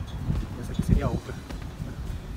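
Gusty wind rumbles and buffets against the microphone in uneven bursts outside houses in Echizen, Japan, with a person talking underneath.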